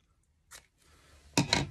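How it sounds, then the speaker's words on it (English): Scissors strain against thick folded fabric: a short snip, a pause, then a louder, harsher crunching cut near the end, close and isolated. "can't even get my scissors through"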